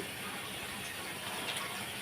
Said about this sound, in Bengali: ঝোলের জন্য পানি দিয়ে দিচ্ছি